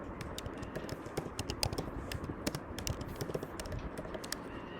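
Fingers type on a computer keyboard in quick, irregular bursts of close, crisp key clicks, with a faint background hum and no talking.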